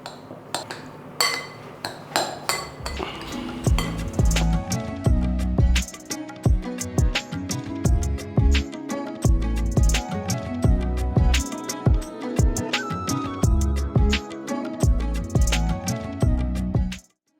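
A spoon scrapes and clinks steadily against a bowl while Andhra-style gun powder, an idli chili powder spice mix, is stirred, with rapid metallic taps repeating throughout and no voices.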